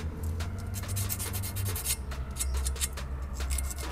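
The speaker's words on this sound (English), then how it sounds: "I sanded down the edge of this control arm for maybe a few minutes with 220 grit sandpaper" 220 grit sandpaper rubs along the edge of a control arm on a BMW E46, a continuous close scratchy rasp with steady back-and-forth strokes, with no talking.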